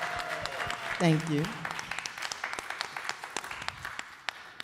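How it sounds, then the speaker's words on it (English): Scattered applause from people at a parade press conference, loose individual claps ringing out while a voice briefly speaks over them. "Give her a big round of applause, everybody."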